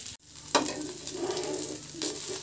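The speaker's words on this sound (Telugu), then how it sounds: "బ్రేక్ఫాస్ట్ వచ్చేసి రవ్వ దోశ వేస్తున్నానండి పాపకి" Rava dosa batter sizzles steadily on a hot pan for a Sunday breakfast, a continuous close frying hiss that swells sharply just after the start and holds throughout, with no voices.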